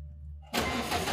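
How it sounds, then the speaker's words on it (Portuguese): Quiet, low idle-like hum, then halfway through a car engine turns over and catches at once after a remote unblocking, settling into a steady, fairly loud running rumble. "Recebi a mensagem e posso voltar a ligar o carro."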